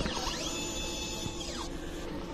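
A printer runs a head cleaning cycle, a short close mechanical whir with a rising then falling motor tone and faint clicks over a steady hum.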